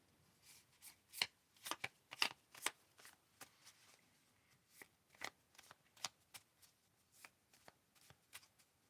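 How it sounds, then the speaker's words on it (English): A deck of cards is shuffled in a quiet room, giving crisp riffling snaps and soft taps in irregular bursts, close and fairly faint, with no voice over them. "Let's get a good shuffle."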